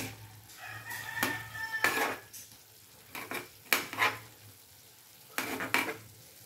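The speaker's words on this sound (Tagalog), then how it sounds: "Kunting halo-halo." Cauliflower with oyster sauce being stirred in a hot pan, with repeated scraping strokes over a soft sizzle, coming in short bursts with quiet gaps between.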